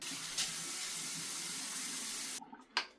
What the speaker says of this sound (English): You're going to want to wet your face, get it a little bit damp.